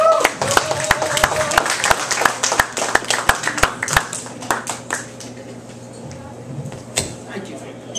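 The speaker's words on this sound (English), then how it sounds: "Please put your hands together for the mystical Frandu." Applause and clapping from a small comedy open mic audience at a bakery cafe, a burst of many hands that thins into scattered claps and fades over several seconds, with some talk underneath.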